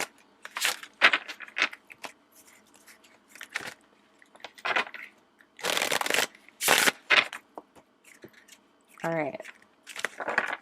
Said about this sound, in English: let's shuffle out some tarot